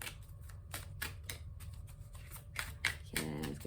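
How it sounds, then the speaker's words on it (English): Tarot cards being shuffled by hand, a series of quick crisp riffles and slaps close by with short pauses between bursts and no talking. "let's give it one more shuffle"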